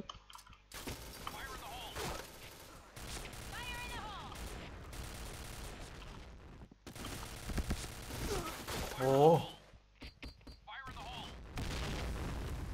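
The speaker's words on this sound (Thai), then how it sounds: "ระเบิดมาแต่ไหนอะ" Grenade blasts and sharp bursts of gunfire crash through a PointBlank firefight in several separate bursts, with excited talking over the noise.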